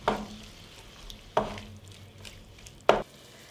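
Spices, sweet ground paprika, tomato paste and hot water being stirred in a pan: three distinct scraping strokes about a second and a half apart over a low background, with no voices.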